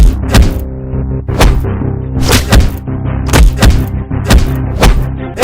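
Heavy, loud thuds and whacks from people beating someone up, landing as a series of irregular blows about once or twice a second, up close and with no talking.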